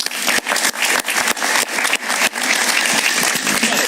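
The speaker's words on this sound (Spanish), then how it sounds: "Un aplauso para él." Studio audience applause on a television talk show, a dense, loud burst of many hands clapping that runs steadily for several seconds with no voices over it.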